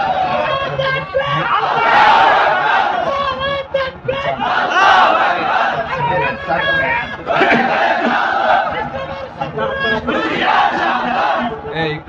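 Large crowd chanting slogans in loud rhythmic bursts of many voices, rising and falling in waves with brief pauses, mixed with scattered shouts and chatter.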